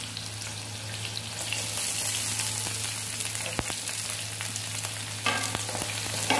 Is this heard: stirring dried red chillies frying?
yes